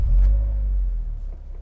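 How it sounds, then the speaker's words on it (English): A stock Mazda Miata NC with its factory engine and exhaust drives along, giving a steady, fairly quiet low rumble that swells briefly and then settles, with no talking. "It is a stock exhaust, stock engine, so everything that you hear is going to be pretty quiet."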